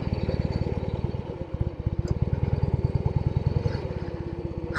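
Vintage Norton Atlas 750 motorcycle being ridden, its engine giving a steady, rapid low pulsing thrum at a constant pace, loud and close throughout.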